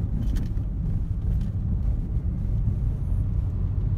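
Steady low rumble inside a 2016 Nissan March 1.2 automatic on the move, road and engine noise droning evenly throughout with no talking.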